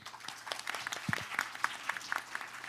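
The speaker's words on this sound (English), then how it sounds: "ladies and gentlemen, please welcome our moderator with a big round of applause." Audience applause at the World Bio Summit 2022 welcoming a moderator: a dense, steady crowd of clapping hands fills the room, even and sustained throughout.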